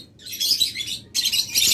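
Small caged pet birds, a breeding pair of local-breed cage birds such as lovebirds or budgerigars, chirping in two dense bursts of high twittering, close and fairly loud, with no talk.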